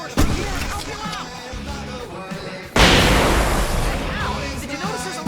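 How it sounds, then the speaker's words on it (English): Fireworks set off in Alan Wake Remastered, a series of loud cracking bangs and bursts, one heavy blast followed by a dense noisy rumble, mixed with game voices and shouting. "I can set off more of the fireworks from here and help you out!"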